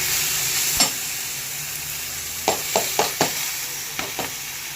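Ingredients stirred in a hot pan before poha goes in give a steady, close sizzle with sharp spatula scrapes and taps: one early, then a quick run of several later on, and no voices.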